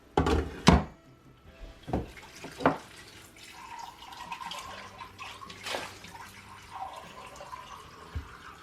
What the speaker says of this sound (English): So I'm going to rinse this.